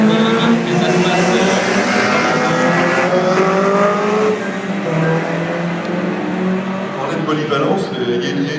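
Race cars driving on the Circuit des remparts street circuit, a loud, steady engine roar that holds for the whole stretch with a slight dip midway, under continuous commentary.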